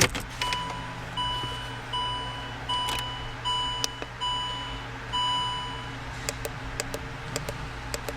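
Dashboard chimes of a Range Rover Sport as the ignition is switched on, repeated clear electronic tones in a regular pattern with a few short clicks, nearby and alone in a quiet cabin.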